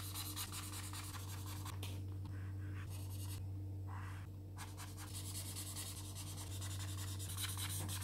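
A grey felt-tip marker scrubs back and forth on squared paper while colouring a pixel-art M4 rifle drawing, a faint, continuous rubbing with rhythmic strokes over a steady low hum.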